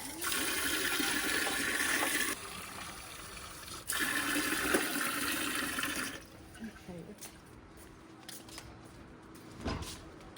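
Water gushes steadily from a tap in two strong bursts while dishes are washed, then quiets to softer splashing and clinks of dishes, with a voice speaking briefly.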